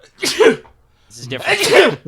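A person sneezes amid talk around a tabletop roleplaying game session, giving two short bursts, the second louder and longer, close to the microphone and blended with speech.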